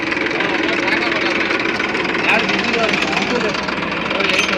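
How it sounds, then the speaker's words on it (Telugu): A tractor with a fault runs at a steady idle nearby, a low, even rumble that holds throughout with voices faintly under it. "ట్రాక్టర్ కూడా వచ్చింది"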